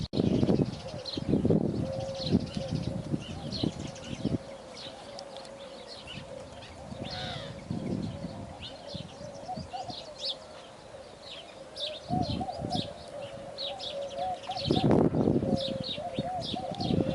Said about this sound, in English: And there are birds here